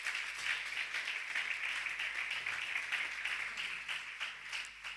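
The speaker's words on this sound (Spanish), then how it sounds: "Dale ese aplauso a Jesús en esta noche." A church congregation applauds at an evening service, steady sustained clapping from many hands heard at a distance and fairly quiet throughout.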